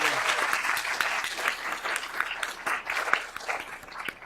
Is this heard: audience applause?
yes